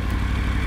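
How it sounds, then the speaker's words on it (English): A Triumph Tiger 900 motorcycle engine picks up revs slightly while the bike sits on a gentle uphill, giving a brief, close, steady low rumble with a faint mechanical clatter. "You saw the revs pick up, and this bike does it"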